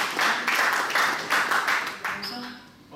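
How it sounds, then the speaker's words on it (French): An audience breaks into applause as a young woman is welcomed onto a stage, a dense burst of clapping that pulses for a few seconds and then tapers off. "Applaudissez, s'il vous plaît."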